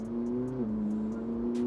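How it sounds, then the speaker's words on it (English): Ferrari exhaust with its valves opened, heard from inside the cabin as a steady engine drone with a smooth pitch shift partway through and a brief whooshing swell near the end. "the exhaust coming into the cabin and starting to inject the cabin with a bit of fizz"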